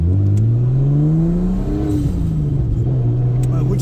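A Nissan R32 Skyline GTS-t engine revs loud and close from inside the car, its drone climbing in pitch, dipping and rising again as the throttle is worked.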